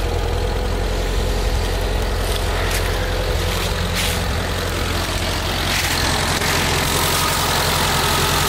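The engine of a 1986 Suzuki Samurai idles at about 800 rpm, a loud, steady low rumble that runs close and unbroken, with no voices over it.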